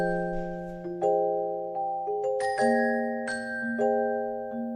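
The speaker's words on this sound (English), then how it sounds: "This time I wanted to layer the top notes with this Glockenspiel sound" Layered celeste and glockenspiel sample sounds played together in a soul sample arrangement, bright bell-like notes struck one after another, each ringing and decaying over sustained lower tones.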